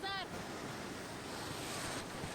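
A continuous rushing wash of churning water in an aquapark wave pool, like waves rolling in, steady and fairly loud, with a short high tone at the very start.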